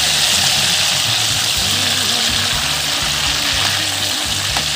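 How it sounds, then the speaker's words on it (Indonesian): Pangasius catfish frying in hot oil gives a steady, loud sizzle that runs the whole time, with someone talking over it. "Ikan patin goreng."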